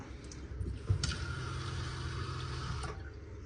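A steady, moderate rush of water runs from the kitchen sink faucet of a 2026 Forest River No Boundaries NOBO 19.2 travel trailer, a continuous close hiss with one soft knock near the start and no talking.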